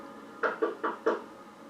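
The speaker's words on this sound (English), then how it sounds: "there was a knock at the front door" Four sharp knocks on a front door land in an even, quick sequence, loud and close, with no voices over them.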